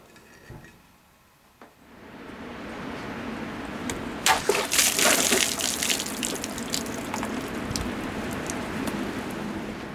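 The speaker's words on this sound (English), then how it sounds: "this thing just sliced through the water jug with zero effort" A 25-inch Sirupati khukuri from Himalayan Imports cuts through a water jug: a sharp impact, then a steady gush and splatter of spilling water that carries on to the end, with no talking.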